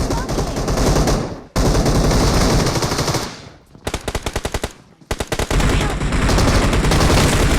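Video game gunfire with an AMR rifle in play, loud sustained bursts of rapid automatic fire, then a run of distinct close shots before the firing resumes heavily.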